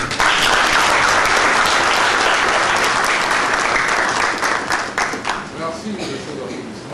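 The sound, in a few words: wedding guests applauding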